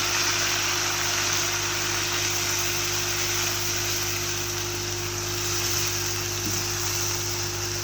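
Blended onion paste hits hot oil in a pan for a fish curry, giving a steady, fairly quiet hiss and crackle that stays even throughout, with a low electrical hum underneath.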